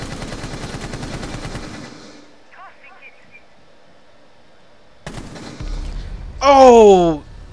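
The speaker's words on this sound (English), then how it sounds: "I'm gonna use the UMP." A UMP submachine gun rattles off a rapid burst in Rainbow Six Siege, followed by a quiet stretch, then more loud gunfire and sharp game sound effects, with a player's voice heard.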